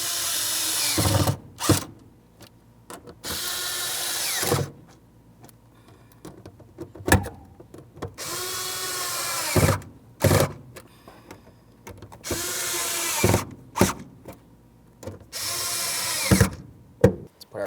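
A power tool snugs up the mounting bolts on the fuel pump and sending unit assembly of a 2000-2005 Buick LeSabre, whirring in about seven loud, short bursts separated by quiet pauses.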